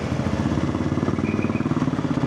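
A BMW F450GS motorcycle climbing uphill in second gear, its engine thrumming loud and close with a steady pulsing beat and no talk over it.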